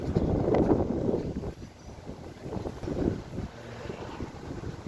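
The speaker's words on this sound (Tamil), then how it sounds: "இப்போ தான் வந்து கொஞ்சம் கொஞ்சமாக சரியான காற்றடிக்குது." Wind buffets the microphone in low, rumbling gusts that rise and ease over a few seconds, with no voices.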